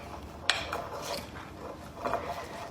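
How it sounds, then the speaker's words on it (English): Spoon clinks and scrapes against a bowl while oatmeal is stirred with unsweetened almond milk and protein powder, a sharp tap near the start, then soft irregular scraping and a few lighter clinks, close and quiet. "So now I'm just adding a little bit of unsweetened almond milk. Just give that a stir"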